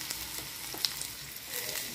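A single onion piece dropped into heated cooking oil to test its temperature, giving a faint, steady sizzle with small crackles throughout.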